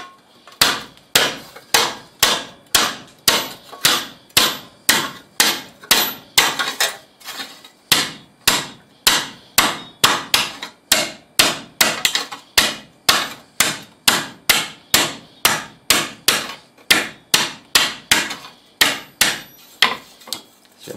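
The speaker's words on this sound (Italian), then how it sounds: "con il martello calandrante possiamo fare delle curvature" A planishing hammer beats a piece of sheet metal in a long, steady run of sharp, ringing blows, dozens of close, loud strikes at a brisk even pace with one brief pause, no voices.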